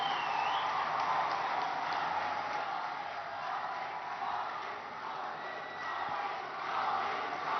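An audience in Odisha cheers and roars at a public event welcoming the Prime Minister, a dense, sustained crowd noise at moderate distance that swells and dips without a break.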